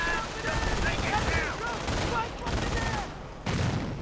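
Bursts of machine gun fire and other gunshots crackle through a World War II strategy game battle, dense and continuous under a commentator's talking.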